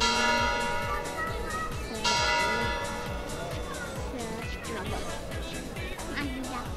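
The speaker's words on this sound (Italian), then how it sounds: "Aspetta che ci sono le campane" Church bells peal loudly and continuously at an outdoor children's singing selection event in Acireale, Sicily, their ringing strokes overlapping throughout while people talk and chatter over them.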